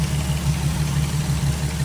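Nissan 350Z engine idling after a radiator replacement and coolant flush, a steady close low hum with an even pulsing throb and no talking.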